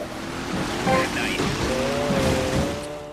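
A jet ski skimming across water in a racing video game, its engine whining steadily and rising in pitch over splashing water, with a voice talking over it.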